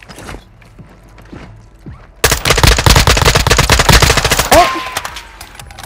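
Rapid machine gun bursts erupt in a Call of Duty match, loud and dense for several seconds after quieter movement sounds, with a brief spoken word near the start.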